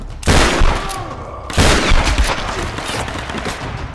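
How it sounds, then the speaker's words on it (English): Loud close gunfire in the Tomb Raider video game, two heavy bursts of shots with booming impacts and rattling echoes between them, no talking. "Who's shooting at me?"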